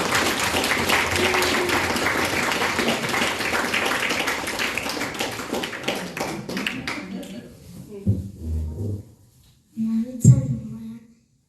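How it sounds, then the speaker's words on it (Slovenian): Loud audience applause at a Mother's Day event fills the first several seconds, then thins out and fades into scattered claps and a few short sounds before silence. "Kar en aplavz, da jih ne bo strah."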